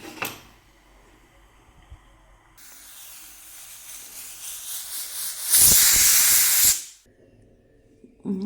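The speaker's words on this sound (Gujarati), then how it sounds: "1 થી 2 વિસલ થવા દેવાની." A pressure cooker steaming cabbage and potato curry hisses, swells gradually, then bursts into a loud sustained whistle of steam for about a second before cutting off abruptly.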